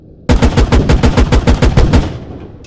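Rapid, heavy cannon fire from the Warrior's 40mm gun shooting armor-piercing Sabot rounds in the game Squad, about a dozen booming shots in a steady rhythm, very loud and close, then a fading tail.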